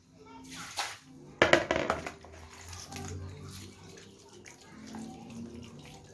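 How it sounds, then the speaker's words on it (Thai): Water splashes into a cooking pot in a rural kitchen with a small burst of pouring near the start of the second second, close by, while someone talks over it and other low noises continue. "ใส่น้ำนิดหน่อยครับ"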